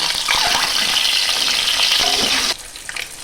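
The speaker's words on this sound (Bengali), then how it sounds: "ডিম হালকা লাল লাল ভাজা হয়ে গেছে" Eggs frying in hot oil in a pan make a loud, close, hissing sizzle that drops suddenly to a quieter crackle after a couple of seconds.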